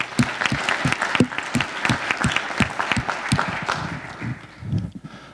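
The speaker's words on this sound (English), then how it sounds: "And please, one round of applause for yourselves" A conference crowd claps loudly and briskly, sharp dense hand claps filling the room before thinning out and fading near the end.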